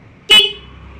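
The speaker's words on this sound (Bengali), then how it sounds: "এটা হর্ন। হর্নটা আওয়াজটা খুব সুন্দর আছে।" A single short, loud toot sounds from an electric bicycle horn, sharp and close, then fades quickly into quiet.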